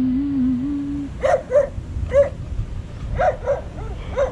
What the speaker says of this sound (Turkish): Çok güzel bir yer fakat çok fazla köpek var. Arkadan havlıyor bir tane.